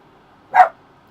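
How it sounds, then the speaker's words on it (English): A dog barks once, a short, sharp bark in an otherwise quiet room as people arrive home. "the dogs have just heard them getting home"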